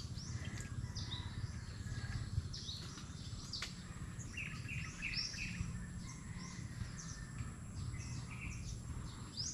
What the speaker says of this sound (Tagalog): Wala kang maririnig kundi huni ng mga ibon.